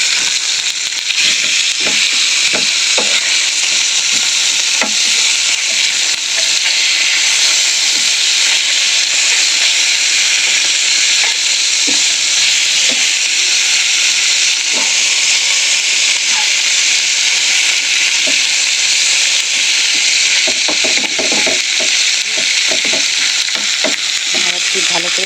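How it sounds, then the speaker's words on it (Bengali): Pieces of fish fry in a wok of hot oil, giving a loud, continuous close-up sizzle with scattered clinks and scrapes from stirring and turning. "আর একটু ভালো করে ভাজা হয়ে গেলে তুলে নেবো মাছগুলো"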